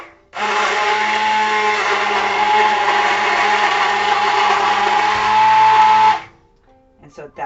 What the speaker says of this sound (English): I'm going to use my blender, my immersion blender, to kind of get it down